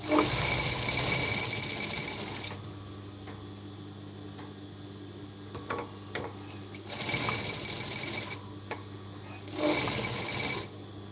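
A sewing machine stitches a blouse neckline, its steady motor whir running close and clear in bursts with brief slower pauses between runs.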